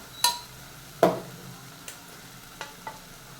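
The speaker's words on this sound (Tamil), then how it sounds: "தக்காளி ஆட் பண்ணிக்கோங்க. லைட்டாக வதக்கி விட்டுக்கலாம்." Tomatoes being lightly sautéed in a pan, a few close utensil scrapes and taps against the pan over a faint sizzle, with no speech.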